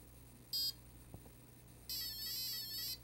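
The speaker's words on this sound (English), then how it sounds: "The first beep is for brake" Electronic speed controller for a model vehicle beeping in programming mode for the brake option: a short high beep, a faint click, then a longer warbling beep, quiet and close, with no talking.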